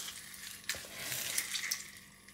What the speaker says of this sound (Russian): Выдавливаем из лука сок